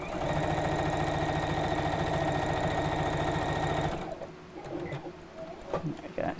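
A domestic sewing machine joining fabric pieces for a small pin cushion runs loud and steady with a fast mechanical whir and tick, then stops partway and leaves quieter handling noises.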